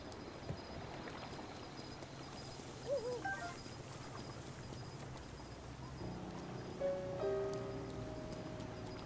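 Steady rain falls in Zelda: Breath of the Wild near the Zora River, a soft constant hiss under low wind and water ambience, with a few faint game chimes and tones.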